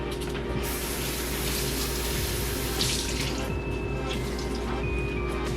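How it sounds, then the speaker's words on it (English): Warm water runs steadily from a tap onto a rag in a sink, a continuous close splashing hiss with no break. "add a little bit more warm water to the rag and wringed it out, the excess water"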